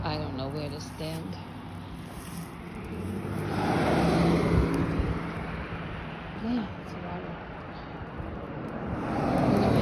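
A car rushes past close by on a roadside where a broken-down vehicle waits, the noise swelling to a loud peak mid-way and fading, with more traffic approaching at the end; a voice speaks briefly near the start.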